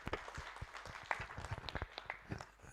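An audience applauds panelists at a public talk, scattered quiet claps from a small crowd heard at a distance for a few seconds.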